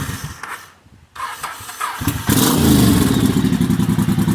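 A 1985 Honda Shadow VT750C motorcycle with choke on cranks with clattering starter bursts, pauses, then catches and settles into a loud, loping idle with a steady pulsing beat.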